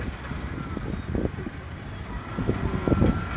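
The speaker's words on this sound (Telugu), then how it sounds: "ఇగో చూడండి గాయస్, ఇంత ట్రాఫిక్ ఉంది, ఇంత ట్రాఫిక్" Road traffic jam with idling cars and trucks, a low engine rumble broken by a few passing motor surges and light wind buffeting on the microphone, fairly close and continuous.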